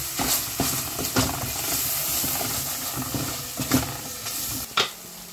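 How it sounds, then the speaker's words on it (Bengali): Chillies and garlic fry in hot oil for a chutney, with a loud continuous sizzle broken by repeated stirring scrapes and clacks of a spatula against the pan. "চাটনির লাগে মরিচ আর রসুন ভাজিলে"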